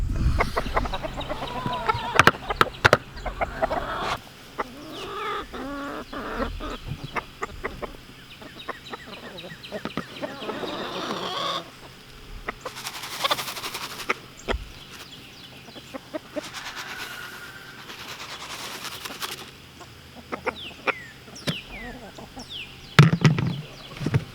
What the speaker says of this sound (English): the two roosters are chasing each other